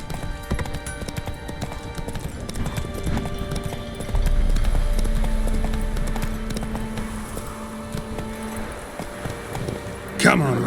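Roach the horse walks in The Witcher 3, hooves clip-clopping in a steady rhythm under a game soundtrack and a voice, with a brief neigh near the end.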